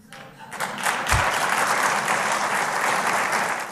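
Officials at a natural gas discovery announcement break into loud, sustained applause, a dense crowd clapping steadily throughout.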